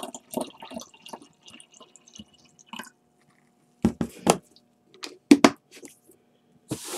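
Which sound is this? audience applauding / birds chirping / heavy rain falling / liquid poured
liquid poured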